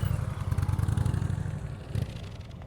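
A motorcycle engine during slow speed riding practice, rumbling at low throttle with a steady pulsing idle that briefly rises, close by and alone.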